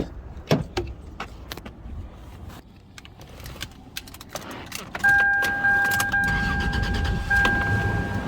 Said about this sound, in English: it's a Toyota engine. And it turns on every single time you start it